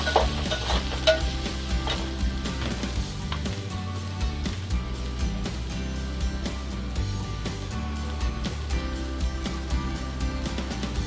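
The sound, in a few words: sautéing red masala in a pan for chicken masala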